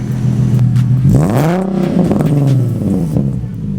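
A Nissan 370Z being tuned is revved while stationary: the close, loud engine note climbs sharply in one rising sweep, then settles back to a steady idle rumble.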